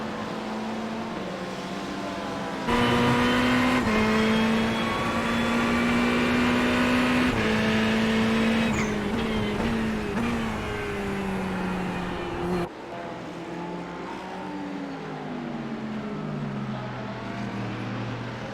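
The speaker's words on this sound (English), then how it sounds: "A couple of cars coming out of pit lane there now." GT3 race cars pull out of the pit lane at Okayama International in a racing video game, their engines droning loudly in a steady tone that rises and shifts with gear changes.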